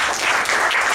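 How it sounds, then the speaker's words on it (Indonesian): A church congregation in Surabaya applauds during a worship service, with dense, steady clapping that stays loud and even for the whole second and no voices on top. "Tepuk tangan buat Tuhan."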